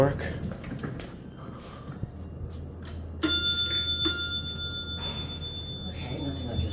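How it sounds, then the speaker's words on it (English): Bell inside a hydraulic elevator cab at Laffin Hall, Farmingdale State College, rings sharply and loudly in two close bursts, metallic and ringing, after quieter handling noises and voices in the cab. "Okay, nothing like a startling bell."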